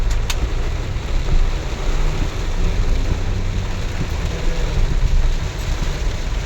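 Steady rain falling: a loud, dense, unbroken wash of hiss with a deep rumbling undertone throughout, and no voices.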